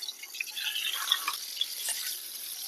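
Pangas fish coated in turmeric and salt frying in hot oil in a pan, a faint, thin crackling sizzle with small scattered pops and spits.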